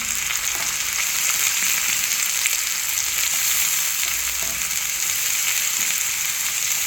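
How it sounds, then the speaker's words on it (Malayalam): Garlic and curry leaves sizzle steadily in a hot pan for a Kerala-style dried prawn and ivy gourd stir-fry, a continuous bright crackle with faint stirring and no talk. "വെളുത്തുള്ളി കറിവേപ്പില ഇളക്കി കൊടുക്കാം"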